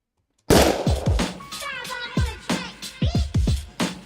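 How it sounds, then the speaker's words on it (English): Gunshot sound effect opening a rap instrumental: a sharp loud blast at the start followed by a rapid series of punchy percussive hits and scratch-like sweeps, dense and close, with no clear talking. "it can start with a gunshot"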